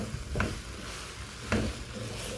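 Pansit noodles being sautéed in a pan, a soft steady sizzle broken by two scraping stirs of a utensil, close and fairly quiet, without voices.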